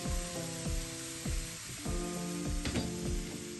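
Ginger garlic paste frying with spices in a pan for a prawn malai curry, a steady close sizzle with repeated scraping stirs and clicks, no talk.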